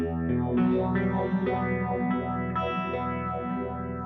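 Electric guitar run through a phaser pedal, a series of picked and strummed chords with a sweeping, swirling filtered tone and slight grit, loud, close and alone without voices.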